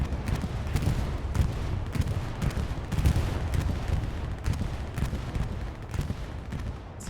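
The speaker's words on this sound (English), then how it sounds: "What a bombing run" Heavy explosions and gunfire from a bombing run in the World War II shooter Hell Let Loose on the Utah map, a dense continuous roar of booms and rattling shots, loud and unbroken.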